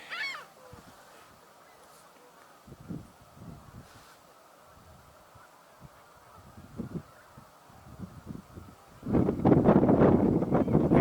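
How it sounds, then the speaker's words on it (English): Snow geese honk faintly in the distance over wind noise, with a louder burst of honking and rushing wind toward the end. "I think they're snow geese."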